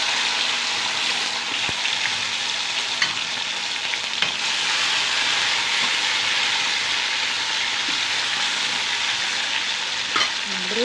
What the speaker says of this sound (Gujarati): અને સરસ મજાનો ટમેટાનો વઘાર થઈ રહ્યો છે